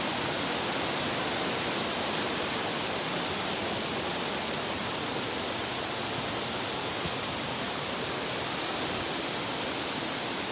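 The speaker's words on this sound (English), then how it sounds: "That's a big waterfall ahead." Big waterfall on the Falling Waters trail in Franconia Notch, New Hampshire, pouring as a steady, dense broadband roar that fills the whole stretch without pause, loud and close with no voices.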